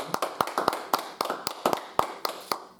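A church congregation claps in quick, uneven rhythm, a dense run of close hand claps with no pause.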